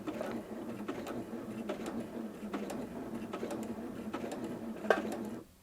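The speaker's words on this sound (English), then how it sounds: "when I sew, no matter how hard I press on the foot control, it will only ever sew at the slowest rate" Janome 230DC sewing machine running at its slowest speed, stitching with a steady, even mechanical clatter of regularly spaced needle strokes, faint and close, ending abruptly as the machine stops.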